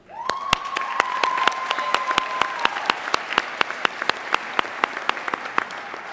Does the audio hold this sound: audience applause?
yes